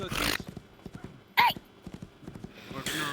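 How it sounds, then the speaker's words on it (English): A loose horse whinnies loudly in the middle of a sequence of clip-clopping hooves, nearby and unaccompanied by talk. "There's a horse on the loose."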